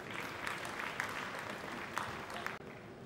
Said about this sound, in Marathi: प्रसाद ओक यांच्यासाठी जोरदार टाळ्या झाल्या पाहिजे.